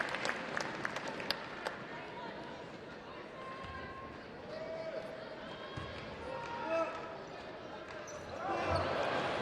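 Arena crowd at a women's EuroLeague basketball quarter-final cheers and claps after a made free throw, a broad swelling roar with bouncing ball thuds and chatter underneath while a commentator talks over it.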